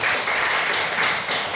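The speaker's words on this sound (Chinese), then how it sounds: "请大家用掌声欢迎" A classroom audience applauds to welcome a lecturer, steady dense clapping filling the room at an even level without any voice over it.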